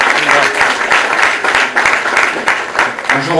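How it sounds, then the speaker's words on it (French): Audience applause at a piano-in-the-station contest in Toulouse Colomiers, a steady wash of many hands clapping close by, with a voice briefly heard over it near the end. "On peut applaudir."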